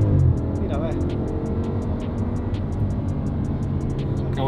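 An Audi RS5 engine rumbles steadily at close range, a low sustained drone with faint ticking on top and no clear rise in pitch.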